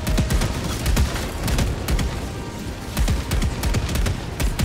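Heavy mech suit autocannons in Helldivers 2 fire as a rapid, loud string of booming shots with rolling low rumble, battering a tank close up without pause.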